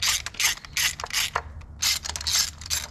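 A hand ratchet clicks in quick bursts while loosening a spark plug on a 2012 Chevy Sonic with a random misfire. Short runs of clear, close mechanical ticking are separated by brief pauses.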